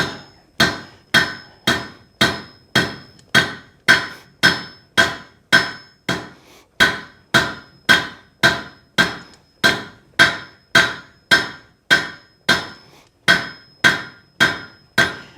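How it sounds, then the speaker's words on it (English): Hammer forging steel over the horn of an anvil while drawing out a meat hook: a steady, evenly spaced run of about twenty-five loud, sharp metallic strikes, each ringing briefly, with no talk. "We're going to start over the horn of our anvil."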